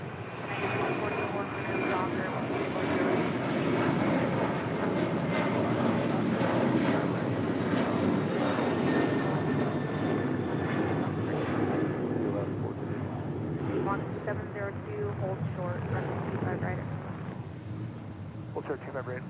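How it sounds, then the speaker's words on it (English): A Breeze Airways Airbus A220 arriving at LAX, its engines producing a sustained, loud roar with a whining tone, holding steady for most of the pass before easing slightly at the end. "Breeze Airways Flight 702 coming in from Richmond, Virginia in this Airbus A220"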